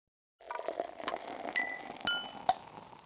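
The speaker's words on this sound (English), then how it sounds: "For UI, I used the clinking of glasses, the sound of beer being poured into a mug, and knocking on wood." Glass clinks used as user-interface sounds for a medieval pub game: a series of bright, ringing chinks and pings, about five distinct strikes with short resonant tails, close and clean with no talk.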